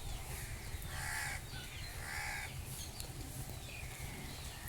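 Birds call outdoors around a rural home during light drizzle, with repeated cawing calls in short bursts over a steady low rumble, heard at moderate distance.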